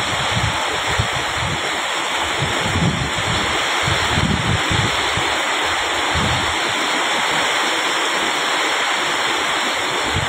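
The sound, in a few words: torrent of flood water rushing down a street in rain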